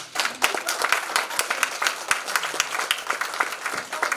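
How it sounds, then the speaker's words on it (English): A crowd of voters at a candidate meet-and-greet in Sugar Land breaks into sustained applause, dense overlapping claps of steady loudness from start to end, fairly close, with a little voice mixed in. "So give yourself a big round of applause."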